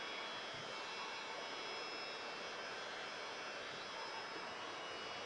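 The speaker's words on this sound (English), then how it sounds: "Got my heat gun, turn it on hot, hot, hot." Heat gun blowing hot air while shrinking window tint on a 2024 BMW X5, a steady, loud, broadband rushing hiss running unbroken throughout.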